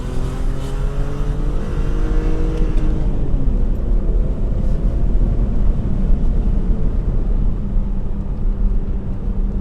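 A 1997 BMW M3 E36 with a 3.2-litre SMG engine, 321 hp, pulls hard in second gear on a road test, its loud engine note climbing steadily as it accelerates, with no speech over it.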